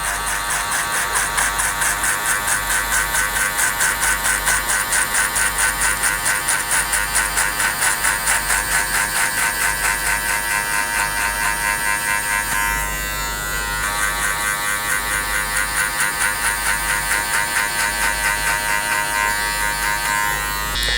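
Electric hair clippers fitted with a number 2 metal guard, fully closed, run continuously while cutting the base of a skin fade in a barbershop, a loud close steady buzz with a brief dip midway.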